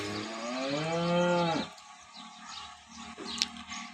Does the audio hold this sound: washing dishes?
no